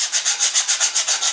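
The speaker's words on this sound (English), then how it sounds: "I'm just going to use a sanding block with 180 grit sandpaper" A sanding block with 180 grit sandpaper rubs back and forth along model rocket fin edges in a steady rhythm, about nine even strokes of bright, raspy scraping, loud and close.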